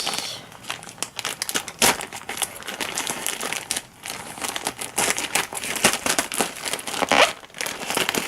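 A plastic mailing bag holding a Rubik's-type puzzle, shipped by express delivery, gets torn open and handled, producing dense, continuous crinkling and crackling with sharp tearing bursts throughout.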